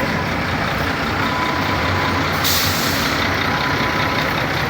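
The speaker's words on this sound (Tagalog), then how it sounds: "Itong bus na to, kanina pa namin to naaabutan." A bus crawling through heavy traffic gives a steady, loud rumble of engines, with a sharp air-brake hiss about halfway through.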